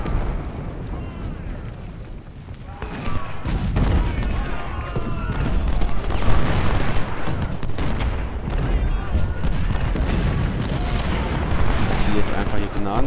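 Cannon artillery booms in Ultimate General: Civil War, a rolling barrage of heavy blasts and crackling volleys layered densely and loud throughout, with someone talking over the battle.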